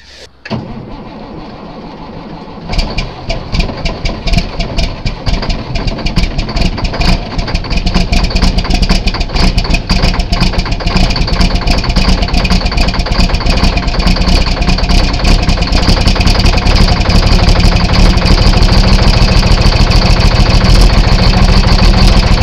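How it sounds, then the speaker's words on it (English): An old farm engine cold-starts with a short cranking burst, then catches and settles into a loud, steady rumbling idle that runs on for a long stretch, heard close. "So, alright, we're going to do a cold start on this old girl."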